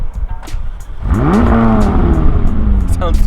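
A 2020 McLaren 600LT Spider engine fires up with the top down, a quick starter whir then a sharp rising rev that settles into a loud, rumbling idle close to the microphone.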